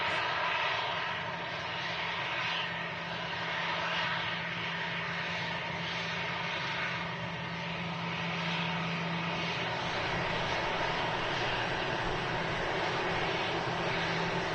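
Aircraft engines droning steadily as planes taxi out for departure at Manchester Airport, a continuous moderately loud rumble and hiss heard from a distance with no breaks.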